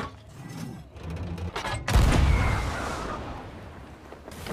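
A heavy ship cannon booms in Sea of Thieves, one deep blast landing midway and rolling out into a long rumbling decay, preceded by creaking wooden mechanisms and quieter clatter nearby.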